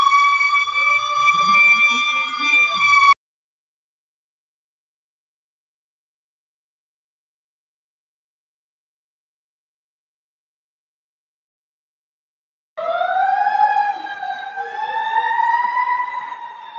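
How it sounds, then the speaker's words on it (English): Emergency vehicle sirens outside wail loudly for about three seconds, cut off into ten seconds of silence, then rise again in a steady, sweeping tone for the last four seconds. No voices are heard. "There were no sirens before I started this live."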